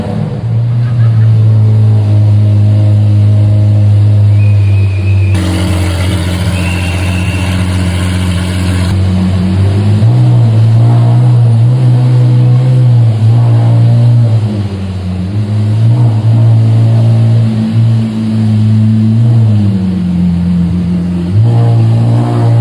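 A Lamborghini Aventador SVJ engine gives a loud, continuous low drone close by, with the pitch swelling and dipping as it revs.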